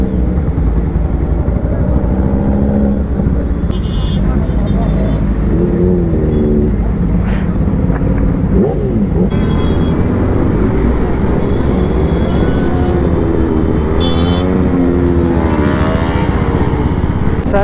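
Motorcycles, including a Royal Enfield Meteor 350, riding in a police-escorted bike rally of 400+ bikes with loud exhausts, a constant loud engine drone with repeated rising revs and passing bikes.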